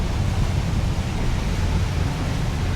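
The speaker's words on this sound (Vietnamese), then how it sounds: "Ôi, có cái thác nhỏ dễ thương vậy." A small waterfall on a lake in Switzerland pours in a loud, steady wash of rushing water that holds constant without pause or voices.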